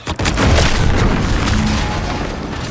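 A loud, deep boom erupts in the sci-fi video game The Outer Worlds 2, followed by a rumbling, crackling tail that slowly fades over a couple of seconds.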